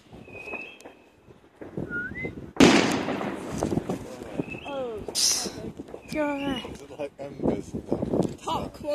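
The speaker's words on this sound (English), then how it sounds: "Top quality fireworks." A sharp firework burst cracks out on a rooftop amid people talking, with whistling tones and scattered pops around it, fairly close and loud.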